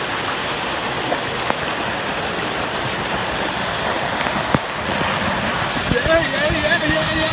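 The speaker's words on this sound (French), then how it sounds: "je vous emmène, on va voir la cascade d'eau par là" A waterfall near Luang Prabang, Laos, gives a steady broadband rush of falling water, continuous and fairly close, with a few faint knocks and brief voices in the background.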